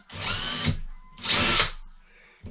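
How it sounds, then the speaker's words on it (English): Power drill boring a hole for a light fitting, two loud whirring bursts of roughly half a second each separated by a short gap, close up and without talk. "make sure you've got the appropriate size and that your drill is switched on"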